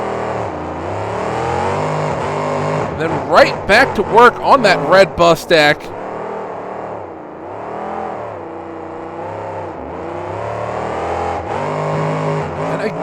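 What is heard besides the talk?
monster truck engine refired and revving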